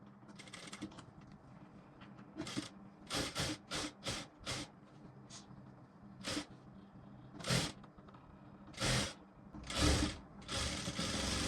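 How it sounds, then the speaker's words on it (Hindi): A sewing machine double-stitches darts on a blouse in short, separate bursts of running, about a dozen runs spaced unevenly with pauses between, at moderate level and close by. "डबल सिलाई लगा दिए इस प्रकार से।"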